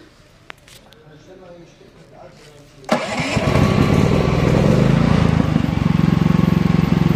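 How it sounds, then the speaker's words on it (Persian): A household appliance's small engine catches after quiet handling noises and runs on at a loud, steady, buzzing drone. "این هم صدای موتور در حد یه جارو برقی صدا داره"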